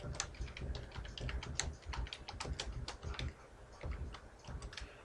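Quiet, fast typing on a computer keyboard, with dense irregular key clicks and short pauses throughout.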